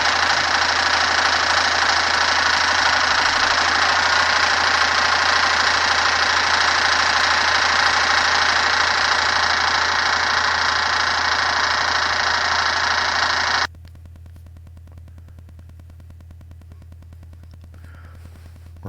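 A John Deere 440 skidder engine idles loud and close with a steady low drone, then drops abruptly to a quieter level for the last few seconds. No one speaks.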